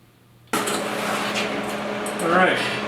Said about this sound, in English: Weld her together.